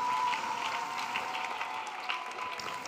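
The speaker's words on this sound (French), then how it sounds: "Let us clap for Jesus." A church congregation at a prayer gathering claps for Jesus, a continuous, dense wash of many hands clapping together, fairly even in loudness throughout.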